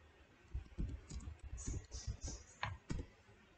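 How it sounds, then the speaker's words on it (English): Username and password go in on a computer keyboard: bursts of quick, close key presses with uneven rhythm and a couple of louder clacks near the end. "And type in username and password."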